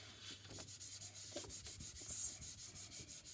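Pastel being rubbed into paper for a sunset drawing, a soft, even back-and-forth scrubbing in a quick regular rhythm, close and quiet.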